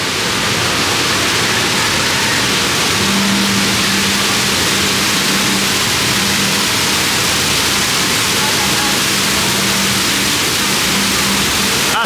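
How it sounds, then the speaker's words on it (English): Massive waterfall in the Jurassic World area of Universal Studios Beijing, a loud, steady, broadband roar of rushing water that fills the whole scene without pause, with a faint low hum running beneath it. "Behind that massive waterfall, just listen to the sound of that."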